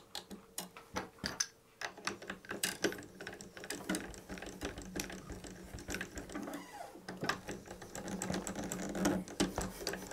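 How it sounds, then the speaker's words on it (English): A guitar string is wound at the machine head tuner on a guitar fitted with a Bigsby, giving quiet, irregular ratcheting clicks and ticks in short bursts, close to the microphone, with no talking. "pull the string tight with your right hand while you're winding the string at the machine head"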